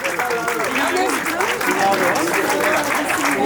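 Steady, loud applause from a crowd at a prize ceremony for a 10-kilometre road race winner, continuing throughout with a voice faintly audible over it.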